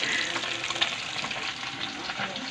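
Food frying in a pan with a steady, dense sizzle and crackle, loud and close, continuing unbroken without talk.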